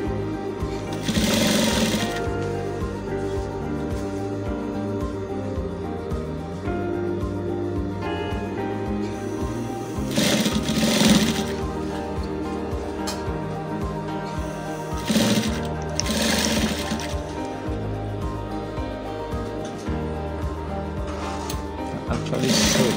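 A sewing machine stitches flat shirt fabric for a vintage-style shirt, running in a steady mechanical whir with a few short pauses and speed changes, close and loud throughout.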